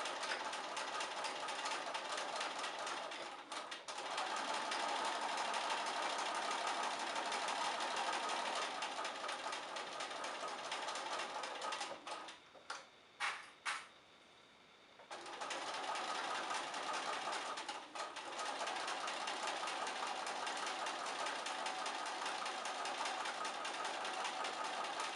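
A sewing machine stitching a towel apron runs in a steady, fast hum, close and continuous, with a brief stop and a few separate clicks near the middle before the sewing resumes.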